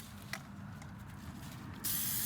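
A spray can of Amsoil Mudslinger blasts into a car footwell in one sudden loud hiss near the end, after a quieter stretch of background rumble and a faint earlier burst.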